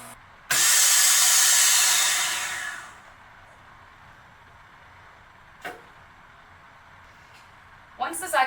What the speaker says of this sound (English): You're going to press the vacuum button and apply pressure to the sides to make sure that the vacuum engages.